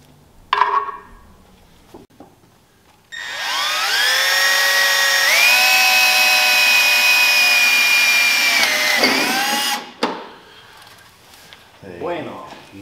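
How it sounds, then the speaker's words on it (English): A power drill with a socket whines loudly for several seconds, rising in pitch as it drives a fastener into a firewall, with brief speech before and after. "Let's get a socket on this and drill it in a little ways."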